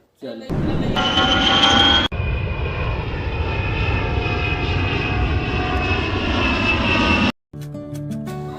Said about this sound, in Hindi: ये प्लेन बहुत धीरे धीरे चलती। हाँ, पता नहीं इसका इंजन खराब होती।